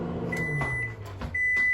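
A microwave oven cooks puran poli filling, giving a steady humming drone with faint clicks and a high tone, growing slightly louder near the end.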